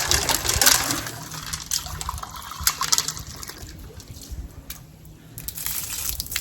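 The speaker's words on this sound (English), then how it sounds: "I'm gonna put a bunch of water in. I'm gonna slosh it around." Water sloshes and gushes inside a part of a 1945 Evinrude 9.7 HP outboard motor being shaken to knock off rust flakes, with bursts of splashing and rattling close up.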